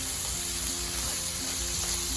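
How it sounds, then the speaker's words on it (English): Sweet pepper, onion and carrot sauté in a pan for chicken fried rice, giving a constant close sizzling hiss with low background hum and no talking. "Just continuing to saute our vegetables."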